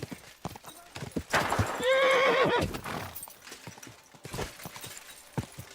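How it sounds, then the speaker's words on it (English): Horse in the video game Kingdom Come: Deliverance 2 gives a loud, close whinny midway through, set among steady clip-clopping hooves before and after. "that looks like a bloody expensive horse"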